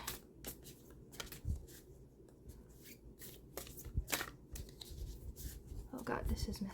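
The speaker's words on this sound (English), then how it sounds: "Okay, let's try to shuffle these." Oracle cards being shuffled by hand, giving soft irregular riffles, slaps and papery rustles close to the microphone, with quiet talking over them.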